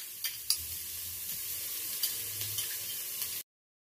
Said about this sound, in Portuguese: Agora eu tenho aqui, ó, bacon que já tá ferventado e picadinho. Vou colocar aqui para fritar.